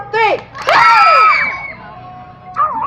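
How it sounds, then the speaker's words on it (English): Children at a petting zoo event with wild animals shout and scream together in a burst, with cheering and a brief clap, loud and close, followed by another short shout. "How about like a clap and a scream?"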